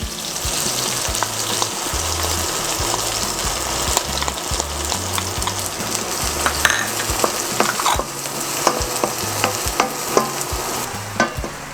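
Onion and garlic fry in hot oil for kare-kare, a dense continuous sizzle close by, broken by frequent stirring clicks and light scrapes of a utensil against the pan.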